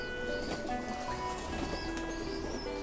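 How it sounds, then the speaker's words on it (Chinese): Several pigeons coo in a soft, continuous murmur while crowding into a water basin to bathe, with steady low background noise and no talk. "开始排队洗澡了，里面进了五个鸽子"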